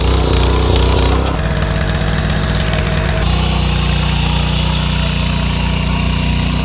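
An R709 Bull power tiller churning through grassy black soil, its engine a loud, close, continuous mechanical roar with steady vibration and a slight change in pitch partway through, with no speech.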